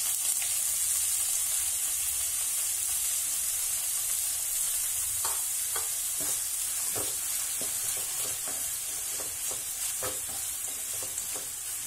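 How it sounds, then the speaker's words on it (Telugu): Garlic and spring onions fry in a hot pan with curry leaves for veg Manchurian, giving a steady close sizzle with intermittent scraping stir strokes, and no voices. "వెల్లుల్లి కొంచెం ఫ్రై అయిన తర్వాత మనం స్ప్రింగ్ ఆనియన్స్ వేసుకున్నాం"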